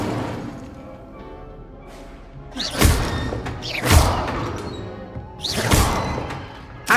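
Incendio fire spells cast in Hogwarts Legacy burst out as three loud whooshing blasts with sharp thuddy onsets, spaced about a second apart, over a quieter ambient background.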